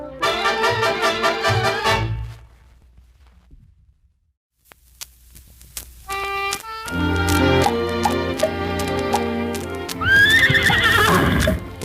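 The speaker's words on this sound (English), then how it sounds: "Now climb on your horse and start into town." Horses in an old Western radio drama clip-clop along at a walk beneath a swelling orchestral score, with a loud whinny rising near the end after a brief near-silent pause.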